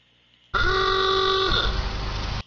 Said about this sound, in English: she asked the cabbie to honk the horn